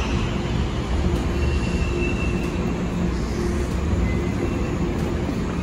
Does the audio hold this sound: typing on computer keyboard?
no